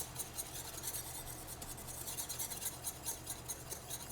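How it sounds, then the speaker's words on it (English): A whisk scrapes rhythmically around a pan of brownie mixture, producing quiet, even rasping strokes in a steady back-and-forth pattern, near and with no talking. "Just keep whisking."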